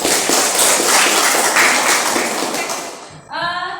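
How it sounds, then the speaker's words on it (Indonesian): Schoolchildren applaud their classroom in a loud, dense burst of clapping lasting about three seconds, then fading into a brief trailing sound. "Tepuk tangan lagi buat kelas."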